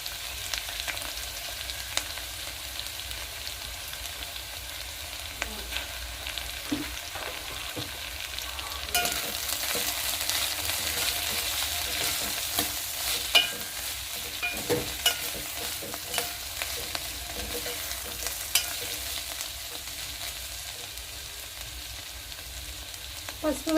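Turmeric frying in hot oil in a pan with chopped beans and tomato, a soft steady sizzle with scattered scrapes and clinks of a spoon stirring, close and fairly quiet.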